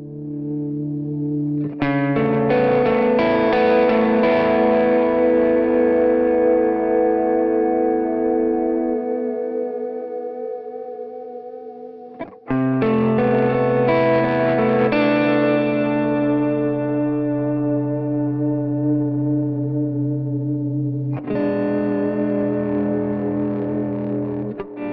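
An electric guitar runs through a studio effects pedal, three long chords ringing out with distortion, chorus and echo, each swelling loud and fading slowly, played alone without talking.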